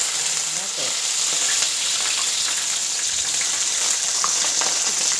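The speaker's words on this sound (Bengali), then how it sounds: "একটু ফ্রাই করে নিই" Carrots frying in a pan with cloves and nutmeg, a loud continuous bright sizzle close by with faint scraping of stirring throughout.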